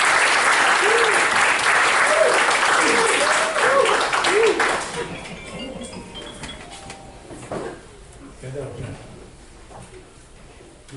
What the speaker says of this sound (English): Let's give a warm round of applause as we welcome Dr. Matthew VAIRAMON to share with us